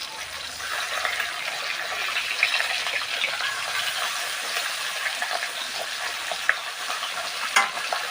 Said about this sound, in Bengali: মাছ ভাজা করতে করতে আমি হাঁপিয়ে গেছি, এত ফোটে মাছগুলো।